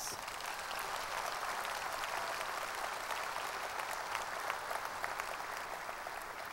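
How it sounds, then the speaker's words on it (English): A large crowd at a college commencement applauds the platform guests, a steady, fairly distant wash of clapping that carries on without pause. "Please give all of our platform guests a round of applause."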